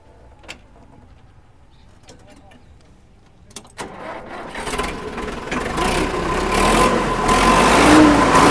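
A 2012-model tractor fired up with its self-starter: a few quiet clicks, then the engine catches around midway and settles into a loud, steady, rising rumble close by.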